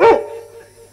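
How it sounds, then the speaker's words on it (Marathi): A single short dog bark, loud and close, cuts in and quickly fades into a low ringing tail during a Marathi devotional discourse. "कुत्रा आले."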